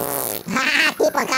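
Cartoonish fart sound effect from the Roblox video game, a couple of loud, raspy, sputtering bursts lasting about a second and a half, with a brief dip in the middle.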